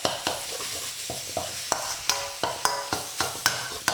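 Minced banh mi meat sizzles steadily in a hot wok while a utensil repeatedly chops and scrapes against the metal in a fairly regular rhythm, close and clear.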